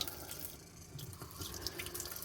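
Tap water runs steadily onto a soapy sponge for cleaning a stuffed animal by hand, a continuous close splashing stream with faint dripping and no talk.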